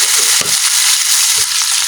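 Tomatoes hitting hot oil with garlic and onion sizzle loudly in a pan, a steady close fry with two brief sharper bursts as pieces drop in or get stirred.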